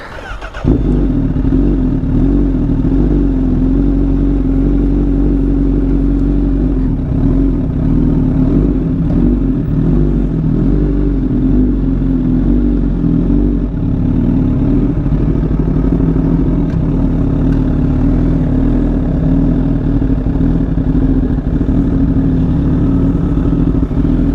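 A 2018 Honda Fireblade SP superbike fires up and keeps running. The engine note is loud, close and steady, with a deep, rumbling idle that holds throughout.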